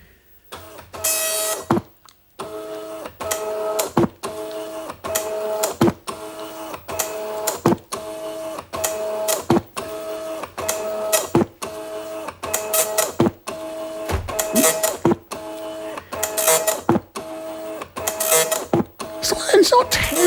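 An Amstrad DMP 2000 dot matrix printer printing, loud, close buzzing print-head passes with a tonal whine, repeating rhythmically line after line, broken by sharp clicks of the carriage and paper feed.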